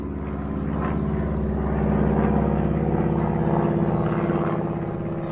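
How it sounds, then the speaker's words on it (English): A small Cessna propeller plane drones overhead, its buzzing engine swelling in the middle and fading slightly toward the end, steady and moderately distant. "I heard the familiar noise of a good old Cessna plane."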